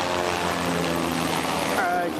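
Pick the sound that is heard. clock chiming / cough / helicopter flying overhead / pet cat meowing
helicopter flying overhead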